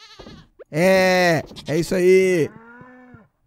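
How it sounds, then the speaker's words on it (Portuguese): Farm animals in the Stardew Valley video game, sheep bleating and a cow mooing in loud, drawn-out calls one after another, with a brief spoken phrase at the start. "Pois é, eu escuto os animais, gente."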